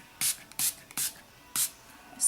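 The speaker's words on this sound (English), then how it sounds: "The last thing I use on it is my e.l.f. Makeup Mist and Set." Short bursts of e.l.f. Makeup Mist and Set setting spray misted onto a face, four separate hissing sprays in an uneven rhythm, close and fairly loud with quiet gaps between.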